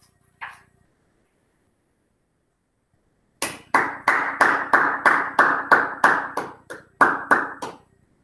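Clapping during a whole-school assembly: after one short clap and a long silence, about a dozen slow, evenly spaced loud claps ring out in steady rhythm, close and distinct.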